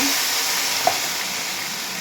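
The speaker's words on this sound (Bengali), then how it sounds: "একটু পানির রস দিয়ে দিচ্ছি।" Water poured into a sizzling taki fish curry base in a pan gives a loud, steady hiss that fills the whole stretch, with one small pop midway, close up and without talk.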